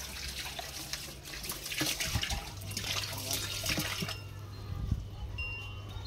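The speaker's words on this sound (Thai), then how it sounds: "แล้วก็เติมน้ำลงไปค่ะ" A hose runs water into a koi fish pond, making a continuous splashing, gurgling flow with bubbly bursts and a low hum underneath.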